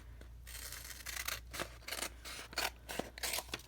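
Scissors snip through paper in a series of crisp, close cuts, each followed by a soft rustle, with no talking.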